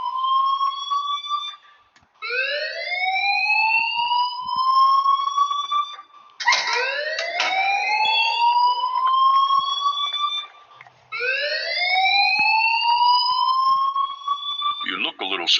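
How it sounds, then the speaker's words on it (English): An alarm in the video game Life is Strange wails in repeated rising sweeps, about four long cycles in steady succession, loud and alone. "please turn off that alarm since that's your job"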